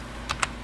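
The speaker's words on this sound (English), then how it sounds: "And I'm going to type in" Two quick keystrokes on a computer keyboard while a command is typed into a Raspberry Pi 4 terminal, sharp clicks about a tenth of a second apart over a low steady hum.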